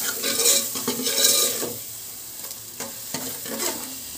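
Spiced potatoes being stirred with salt in a hot pan for aloo dum biryani, a close sizzle with repeated scraping strokes of a spoon against the metal, louder at first and then quieter.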